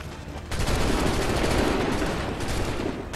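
Musket volleys from soldiers in Assassin's Creed 3, a dense, loud burst of overlapping gunfire that kicks in after a brief lead-in and rolls on steadily to the end.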